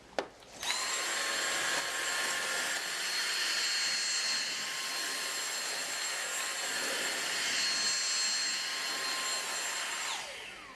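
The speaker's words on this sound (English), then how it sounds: "Let's see if the mini motorized tool is able to get up a little tighter and get rid of this." Dyson DC59 Animal cordless vacuum with its mini motorized tool running on carpet, a steady loud high-pitched whine that starts abruptly and holds for about ten seconds before cutting off, with no talking.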